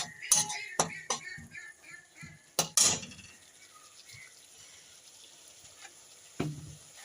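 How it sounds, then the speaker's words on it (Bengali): A spoon stirring and frying a spice paste with turmeric powder in a pan: sharp metallic clinks and scrapes come in a quick cluster, then the pan goes quieter with faint scraping and one last knock. "1 চামচের মতন আমি হলুদের গুঁড়ো দিয়ে আমি নেড়ে দেবো। মশলাটা ভালো করে কষিয়ে নেব।"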